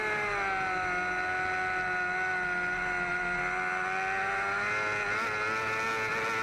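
Racing motorcycles in an AFM F1 class road race, multiple engines screaming in a sustained high-pitched whine that holds steady then dips slightly, loud and continuous with no voices.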